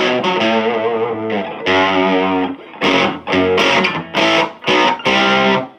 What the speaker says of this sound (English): I'm in overdrive mode now